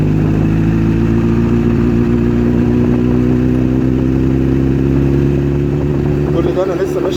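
A motorcycle engine rises steadily in pitch as the throttle is gently opened in first gear, a loud close mechanical drone with strong harmonics, while someone talks over it.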